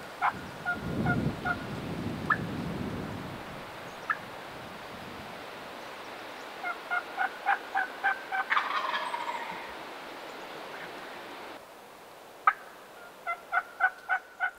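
A wild eastern turkey gobbles repeatedly during a spring hunt, the rattling gobbles coming in rapid clusters, some distant and some closer and louder, over quiet outdoor ambience.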